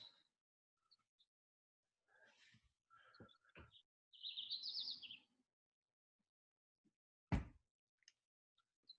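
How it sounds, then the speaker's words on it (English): Little birds tweeting in the background, with a few faint, scattered chirps and short trills in a quiet space, plus a single sharp knock near the end. "Jordan, do you have those little tweeting birds in the background there?"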